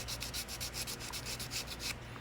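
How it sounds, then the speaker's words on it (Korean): Sandpaper rubs a saxophone neck cork in quick back-and-forth strokes, about a dozen even scratchy passes. The sound is close and faint, with no other sound over it. "이 사포로 이렇게 해서 이렇게 좀 이렇게 깔끔하게"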